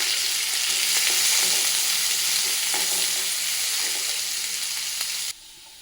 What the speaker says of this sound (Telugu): చూడండి, ఆనియన్ ఫ్రై అవుతా ఉంది.